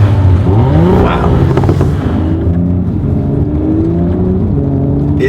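2018 Audi S5 Sportback exhaust in dynamic sport mode with the flaps open, pulling hard under acceleration with a loud, steady engine note and rising gear sweeps, close up and with no talk.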